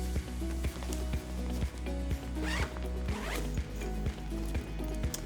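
Close, quiet rasping of the compression zipper on an Eagle Creek Pack-It packing cube, drawn in a series of short, evenly paced pulls with small clicks between them.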